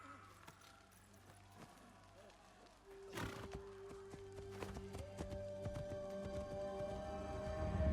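A horse whinnies amid the game soundscape of Assassin's Creed Shadows, a brief call near the three-second mark over hoofbeats and ambient effects, with someone talking throughout.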